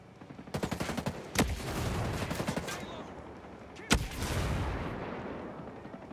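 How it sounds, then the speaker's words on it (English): In Ghost Recon Breakpoint, rapid gunfire rattles in bursts and two sharp, loud blasts land a few seconds apart, one of them a grenade explosion, each trailing into a rumbling wash of combat noise. "Got a grenade for you."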